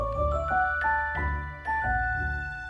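Tinkling bell tones of bell fairies in a fairy tale, a few bright chimes rising and falling in a short melodic run, clear and near over a soft low backing with no talk.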